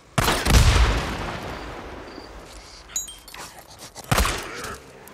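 Gunfire in the video game Days Gone, a sharp loud burst near the start, scattered smaller cracks, then another heavy blast, with quieter rumble between.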